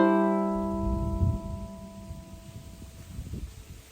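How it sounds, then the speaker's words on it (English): A lingering plucked ukulele note fades as gusty outdoor wind rises, rumbling and buffeting the microphone in uneven low surges that continue steadily to the end. "And the wind joins in."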